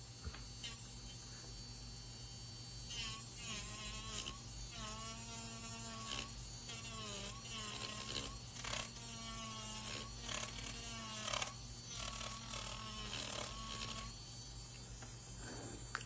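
An electric nail drill with a 150-grit bit whirs steadily on acrylic nails with a high buzzing hum, its pitch rising and dipping in repeated bursts as it is worked.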